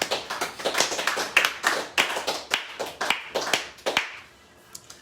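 A church congregation claps together to acclaim the Lord, a quick run of sharp, fairly even claps that thin out toward the end.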